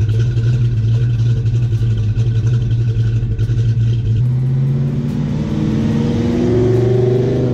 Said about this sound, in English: I just love the pushrod sound